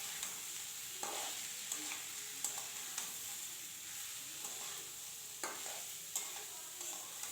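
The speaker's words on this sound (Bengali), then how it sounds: "ডাল দিয়ে একসঙ্গে খুব ভালো করে ভাজা করে নেব।" Rice and lentils are stir-fried together with ginger and tomato in a pan, a steady soft sizzle broken by repeated scraping strokes of a spoon roughly every second, close and moderately quiet with no voices.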